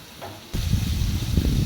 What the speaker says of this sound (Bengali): মশলাটা আমি যতক্ষণ না তেল ছাড়ে ততক্ষণ আমি কষাতে থাকবো